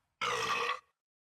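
A person lets out a single loud, close burp lasting about half a second, clear and isolated against silence.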